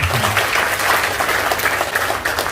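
Applause from an audience at a business community gathering, steady and dense clapping filling the whole stretch at close range.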